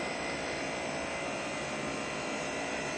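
A 35 kilowatt industrial-style heat pump with a Panasonic Sanyo hermetic scroll compressor running on R32 refrigerant for a house with thermal panels, giving a steady, broad, even whoosh of fan and compressor noise that stays moderately quiet throughout.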